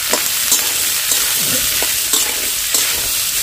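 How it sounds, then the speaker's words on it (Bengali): A spoon scrapes and stirs a salted vegetable mixture in a frying pan over steady sizzling, with several distinct strokes against the pan and no talking. "নেড়ে নিচ্ছি"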